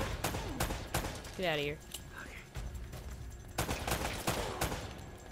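Gun-battle fire in Uncharted: Drake's Fortune, scattered sharp shots spaced through the clip at moderate loudness, with voices speaking between them.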